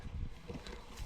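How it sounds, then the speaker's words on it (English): Honey bees buzz around and beneath a hive outdoors, a soft continuous drone with light wind noise and no talking. "Bees under the hive."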